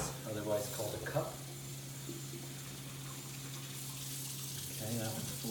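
Tap water runs steadily into a cup being filled, a continuous gushing splash under a voice speaking at the start and end.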